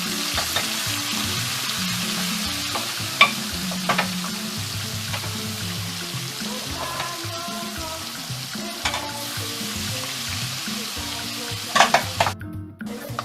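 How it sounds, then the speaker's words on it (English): Chunks of goat meat frying in hot oil, a steady crackling sizzle with the occasional stir and clatter, loud and close throughout with no talking. "So you can see my goat meat is fried."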